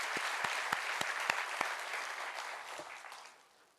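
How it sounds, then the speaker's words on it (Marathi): An audience at a business talk event claps for Kiran, a lively burst of many hands with sharp individual claps standing out, gradually tapering off at the end. "या किरणसाठी एकदा जोरदार टाळ्या होऊ देत मित्रांनो"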